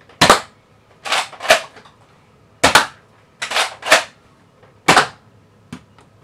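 Nerf Fortnite silenced dart pistol firing foam darts: a series of sharp, loud snapping shots, mostly in quick pairs and triplets with short pauses between bursts, close by with no talking.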